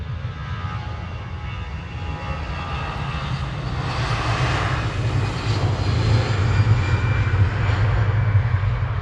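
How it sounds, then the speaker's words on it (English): A Jet2 Airbus A330 jet on its takeoff roll at Manchester Airport gives a continuous deep engine roar that swells louder partway through, heard alone without voices. "the Jet2 A330 coming in from Tenerife. He's just on the roll."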